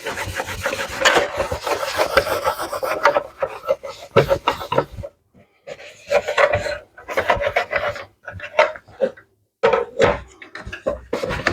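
Close rubbing and buffing of wax off a circular saw's lower guard, in bursts of brisk cloth strokes with short pauses between.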